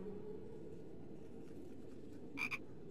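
Frog croaking inside a Harry Potter and the Sorcerer's Stone video game, a brief double burst of croaks near the end over steady low game ambience.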